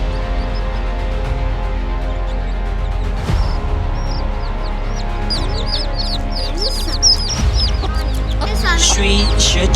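A mother hen clucking in the Vietnamese countryside among other rural fowl and bird chirps, the clucks and calls scattered over a steady background murmur, with a couple of sharp knocks.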